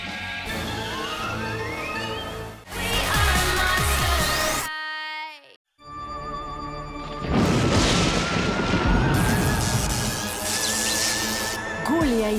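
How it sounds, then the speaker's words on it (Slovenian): A cartoon explosion as chemicals mixed in a science classroom blow up, a loud boom and crash followed by ringing, cascading effects, a brief near-silent gap, then a second burst of debris and whooshing sound effects. "Kemikalije, ki jih je mešala, povzročile so eksplozijo"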